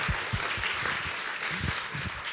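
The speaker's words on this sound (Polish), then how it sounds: "Brawa dla Bartka" A small audience at a talk applauds, brisk scattered clapping with distinct nearby hand claps over a dense wash of clapping, short and steady.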